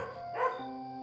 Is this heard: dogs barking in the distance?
yes